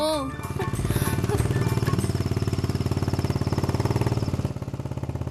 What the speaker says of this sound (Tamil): பைக் சத்தம் தான் கேக்குது, வந்துருச்சுன்னு நினைக்கிறேன்